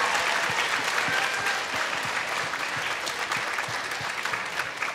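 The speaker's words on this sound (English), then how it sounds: "Can we get one more huge round of applause for these great contestants here?" An audience at a local singing contest show applauds the contestants, a loud sustained burst of many hands clapping that thins slightly toward the end, with scattered crowd noise.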